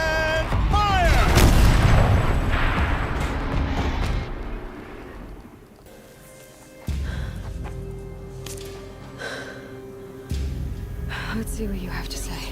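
A turret fires in the video game Horizon Zero Dawn, a loud heavy boom with a long rumbling decay, followed by quieter thuds and game ambience.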